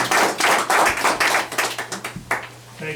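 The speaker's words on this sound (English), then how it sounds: "let's give her a hand clap." Hands clap at a town council meeting in Exeter, Rhode Island, a burst of quick, loud claps from a few people close by that thins out into scattered claps toward the end.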